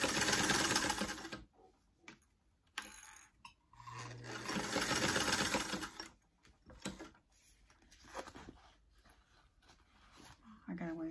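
A vintage Singer sewing machine back-stitching through thick fabric, with loud bursts of rapid stitching separated by pauses, a voice talking in between.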